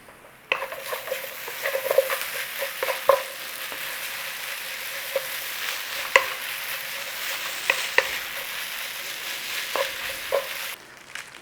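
Chicken chow mein noodles stir-frying in a hot pan with onions, a steady close sizzle broken by irregular scrapes and clanks of a utensil against the pan, with no talking.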